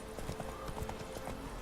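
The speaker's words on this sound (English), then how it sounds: "The horse movement seems a little bit weird in this game." Steady clip-clop of horse hooves from a mount in The Witcher 3 Game of the Year Edition. The hoofbeats come in a brisk, even rhythm at moderate volume under a constant layer of game ambience.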